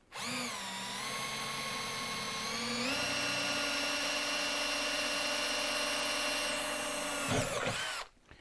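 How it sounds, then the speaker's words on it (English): A power drill bores into aluminium angle, its motor whining steadily and loud for about eight seconds, pitch stepping up partway through as it bites faster, then cutting off abruptly at the end. "Aluminium, I can actually drill faster than steel."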